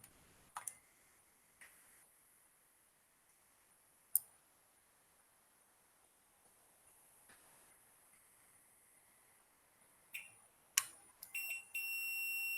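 A multimeter in continuity mode, tested across a shorted coil, gives a few quiet clicks and ticks before sounding a sharp, sustained high beep at the end.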